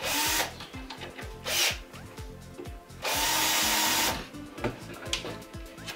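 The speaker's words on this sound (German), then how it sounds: "Dann kann man so einen Konus einsenken sozusagen mit dem Senkkopf." A power drill with a countersink bit bores cone-shaped screw recesses into wood for a box, a series of loud whirring bursts with grinding bites into the timber, separated by short pauses, close to the microphone.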